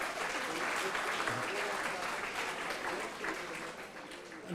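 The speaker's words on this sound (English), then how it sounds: "Please give a huge round of applause." Sustained applause from a conference audience at a nutrition award ceremony, dense and steady throughout with faint voices mixed in, thinning slightly toward the end.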